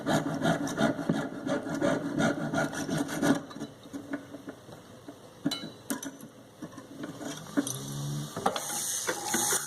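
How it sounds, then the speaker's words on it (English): A jeweler's saw rasps back and forth through ring carving wax in quick, uneven strokes, close by, pausing briefly between bursts of cutting. "I've attached it to my jeweler's frame, and I'm sawing around the outside portion"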